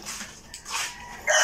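A dog barks and yips close by over a noisy home gathering, short sharp calls ending in a louder bark.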